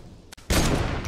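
Gunfire in the video game Fortnite, a sudden loud burst of rapid shots that follows a brief muffled thud and fills the rest of the moment, close and dense.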